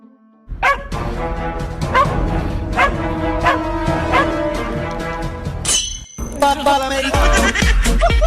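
A small dog barks and yips repeatedly while teasing a cat, close and loud in quick irregular bursts, with a brief whimper near the end.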